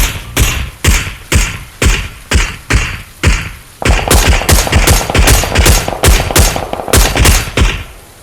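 Gunfire in the PUBG battle royale game: loud, evenly spaced single shots, then a rapid automatic burst of closely packed rounds, all near and sharp with no talk over it.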